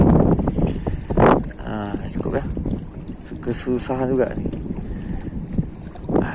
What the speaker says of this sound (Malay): Ini karena angin nih. Malas kita mancingnya dari angin ini.